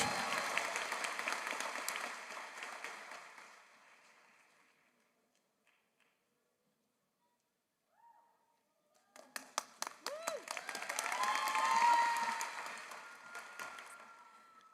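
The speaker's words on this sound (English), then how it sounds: "So please give a round of applause for Miss Bruno as she comes up on stage." An audience claps at a graduation ceremony, fading out into near silence, then a fresh burst of applause builds, scattered at first and then thick, before tapering off.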